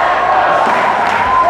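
A dense, steady roar of crowd cheering fills the arena at a France vs Canada semi-final of the Worlds, loud and continuous with no clear breaks.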